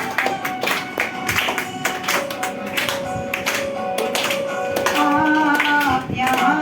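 Rhythmic hand clapping from an audience at a Brahma Kumaris Mother's Day celebration in a Dwarka apartment complex, steady, fairly close, and accompanying a song with sustained melodic tones.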